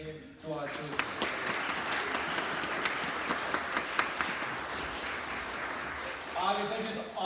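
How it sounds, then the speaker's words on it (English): Applause for children at a First Holy Communion church service: a full room of steady clapping holds for several seconds, with brief talk audible at the start and near the end. "So round of applause once again to our children."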